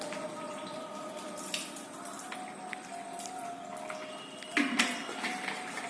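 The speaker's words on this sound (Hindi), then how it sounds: "जैसे हम इसमें पानी डाल रहे हैं तो इसमें से जो पानी गिरेगा वो ज्यादा डार्क होगा" Water trickles and drips into a glass in a faint, uneven patter against a quiet background, with a brief sharper splash and clink near the end.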